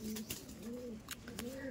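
A male and female pigeon pair coo in low, rolling calls that repeat and overlap, close by, with sharp rustles or taps between them.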